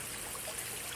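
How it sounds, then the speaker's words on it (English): Steady rushing water from a waterfall spilling into a pool in a bed-and-breakfast pool area at Uvita, an even wash of broadband splashing with no talk. "waterfall."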